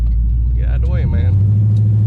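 A 1968 Dodge Charger with a Hemi engine and NAG1 transmission rumbles loudly while driving, its low engine tone climbing and settling through a shift as someone speaks over it.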